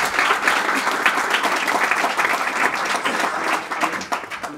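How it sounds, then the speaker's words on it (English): A room full of people applauds a speaker at a culture-and-technology talk, steady, even clapping that holds for several seconds and tapers slightly at the end. "Can we round of applause for Adrian,"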